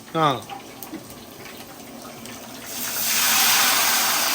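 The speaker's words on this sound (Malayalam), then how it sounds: "ഈ വെള്ളം ഒഴിക്കുക." A voice speaks briefly, then after a quiet moment water pours in a steady, rushing stream into a vessel of semolina.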